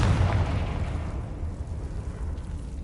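A blasting-spell explosion bursts in a Harry Potter video game, a loud, dense boom with crackling debris that decays steadily over a few seconds.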